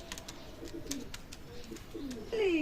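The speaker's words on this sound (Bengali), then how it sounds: "চমৎকার ব্লাড লাইনের গোল্ডেন কবুতর" Golden pigeons of a bred bloodline coo softly in a loft, several low rolling coos repeating over a steady background hiss with faint clicks.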